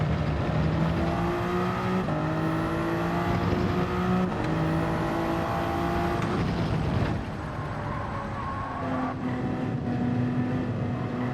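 A Toyota Supra race car in Gran Turismo 7 drones loudly and steadily, its engine pitch stepping up through several gear changes before easing off near the end, with no voices.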